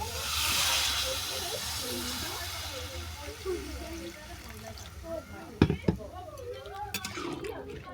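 Water and torn green chilies tipped into vegetables frying in a pan, a loud hiss of steam that gradually fades, followed by a few clatters of utensils, with a voice talking over it.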